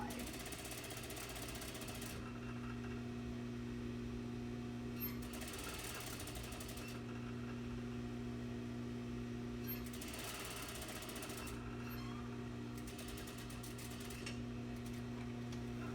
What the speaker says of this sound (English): we're going to stitch all the way down